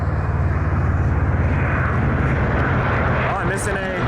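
A Boeing 787 Dreamliner passes at Toronto Pearson airport, a loud, steady jet roar that fills the whole clip, with a voice speaking underneath.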